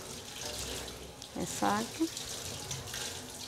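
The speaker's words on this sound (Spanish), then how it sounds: "Ahora se va a enjuagar pasando las manos por debajo del agua." A tap runs steadily while hands are rinsed under the water, a constant rushing sound with brief splashes, and a voice speaks over it.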